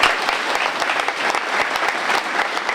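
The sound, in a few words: applause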